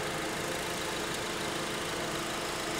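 A used car's engine idles steadily at close range, a continuous broadband rumble with a faint knocking texture and no voices over it.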